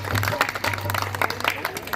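Crowd applause at a Holi Milan gathering with Shyam Baba kirtan, a steady patter of clapping over a low electrical hum, with voices faintly mixed in.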